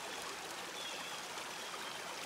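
A shallow, low mountain stream flows steadily nearby during a drought, a continuous soft rush and trickle of water with no voices.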